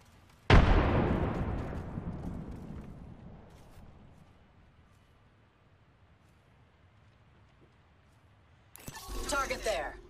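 A frag grenade explodes in Apex Legends with a loud, close boom whose rumble decays over several seconds, and later a burst of gunfire and game noise follows.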